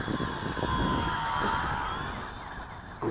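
A Max Thrust Riot RC airplane with a 2836 2200 kV NTM electric motor, 50 amp ESC and 6x4 propeller whines past overhead, a steady high-pitched buzz that swells and then slowly fades as it flies away.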